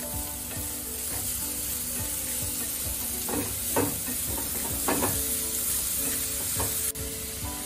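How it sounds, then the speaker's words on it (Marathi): Carrot and capsicum pieces stir-fried in a pan, a steady close sizzle with scraping spatula strokes and occasional clinks of the utensil against the pan throughout. "आता हे चांगलं परतून घ्यायचं।"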